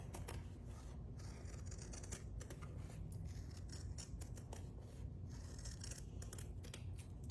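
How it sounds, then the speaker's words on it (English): Scissors snip repeatedly through yellow paper, cutting out a traced circle for a pennant banner craft; quick, soft, close cuts over a low background hum. "I'm going to cut that out"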